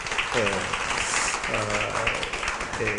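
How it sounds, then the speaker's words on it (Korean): Congregation clapping in a church, a moderate patter of hands with voices rising over it in bursts of speech or cheering. "하나님 앞에 영광의 박수 한번 돌리겠습니다."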